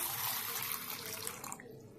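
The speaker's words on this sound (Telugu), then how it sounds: "వాటర్ అయితే పోసి నానబెట్టేసుకుందాము" Water pours steadily into a container of sago with a bright splashing rush, then cuts off abruptly near the end.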